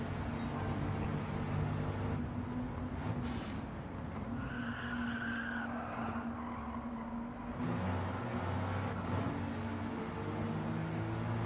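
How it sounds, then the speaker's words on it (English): A race car in a racing video game roars continuously at moderate level, with its engine note rising and falling and bursts of tire squeal, and no voices over it. "it's a noise of the air being drawn through the intake"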